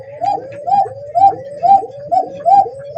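A fancy pigeon coos close by in a farm loft, giving a loud, repeated rhythmic series of throaty rolling coos about twice a second.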